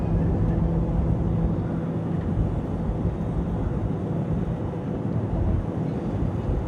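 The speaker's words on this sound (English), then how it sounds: "Oh look, it's a plane." An airplane flies near an airport, heard as a steady, loud broadband roar that holds at an even level throughout, with wind buffeting the microphone.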